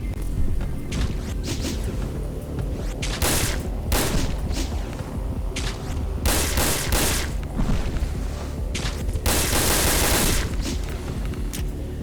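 Gunfire in the video game Dead Aim comes as repeated loud bursts of shots and booms over a constant dense background of game noise.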